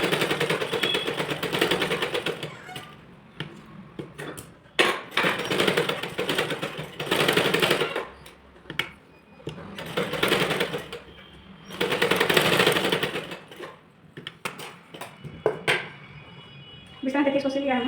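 Sewing machine stitching a blouse: several loud bursts of rapid mechanical stitching, each a few seconds long, separated by pauses with a person talking in between and light handling clatter.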